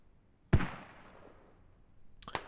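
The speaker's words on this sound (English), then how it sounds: "Mortars coming back out." A mortar round fires in a military video game: one loud, close, heavy boom whose rumble fades slowly, followed about two seconds later by a sharper, more distant crack.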